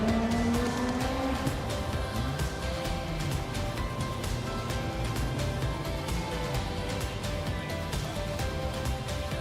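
Drift cars at Gransnow Okuibuki in Shiga during a Formula Drift Japan Top 32 battle, engines roaring and revving continuously with tire noise, loud and sustained, mixed with crowd and ambient track din.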